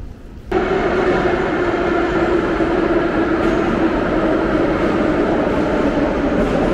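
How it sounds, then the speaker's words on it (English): A Saint Petersburg metro train roars in suddenly and holds a loud, steady rumbling drone with a faint rhythmic clatter, close by and without talk. "Okay, so we just stepped out of the metro."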